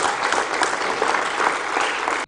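An audience at a Uganda Red Cross Society gathering breaks into steady applause, a dense, even patter of many hands that holds for a couple of seconds before cutting off.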